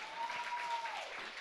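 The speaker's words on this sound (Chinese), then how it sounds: "给我一个掌声好吗？" Congregation at a Mandarin-language church service gives a brief round of applause, soft and fairly distant, steady clapping without voices.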